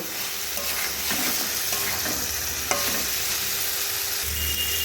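Cauliflower and potato pieces fry with spices in a pan, giving a steady close sizzle with intermittent scraping clicks of a spatula stirring through the mix.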